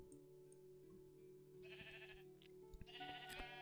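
Sheep bleating in the video game Minecraft: two drawn-out bleats, one near the middle and one toward the end, over a steady background hum of game sounds.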